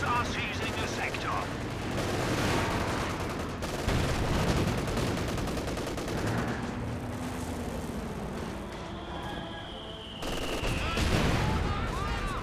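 Mortar fire and battlefield gunfire in the Company of Heroes 2 video game as shells land on a PaK-40 anti-tank gun, with dense overlapping shots and blasts and occasional speech mixed in.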